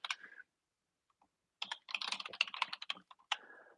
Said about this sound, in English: I will put that in the chat here using a keyboard I haven't used before.